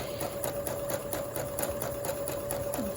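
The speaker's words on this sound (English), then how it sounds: "and you just start stitching" A sewing machine fitted with a ruffle foot stitches fabric in a steady, rapid mechanical rhythm, close and continuous, with a constant whirring hum and no talk.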